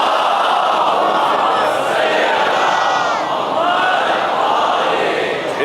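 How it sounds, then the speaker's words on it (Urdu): A large crowd chants together in a loud, sustained roar of voices, rising and swelling in unison with no pauses. "اس سے بہتر اور بلند صلوات۔"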